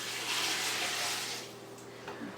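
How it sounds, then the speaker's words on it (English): Cold water pours steadily from a jug into a container of crabapples, a hissing splash that gradually tapers off, followed by a few small trickles. "So I poured in one jug full"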